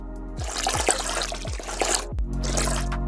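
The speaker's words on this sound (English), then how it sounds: "if I drop maybe some water in," Water layered into a whoosh effect in Krotos Studio Pro: trickling, splashing liquid texture over a steady low drone, with a few descending swoops and a brief dip before the wash returns.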